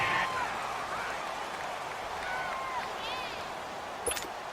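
A stadium crowd roars in the Madden 19 football video game, a steady, loud wash of cheering and noise that runs under play-by-play commentary.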